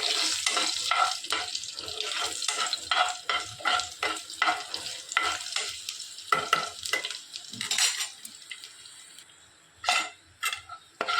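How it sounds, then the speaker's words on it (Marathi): Garlic with a pinch of asafoetida sautéing in hot oil: a bright, crackling sizzle close by, broken by quick spatula strokes against the pan, fading slightly toward the end, with no talking. "थोडी लसूण परतून घेऊया."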